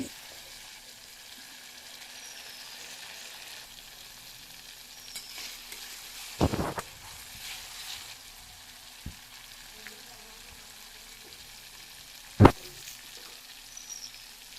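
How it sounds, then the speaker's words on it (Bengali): Spice paste sautéing in a pan gives a faint, low sizzle, broken by a few sharp scrapes and knocks of a spoon against the pan, quiet and without speech. "সব মশলাটা আমি একভাবে সুন্দর করে কষিয়ে নেব"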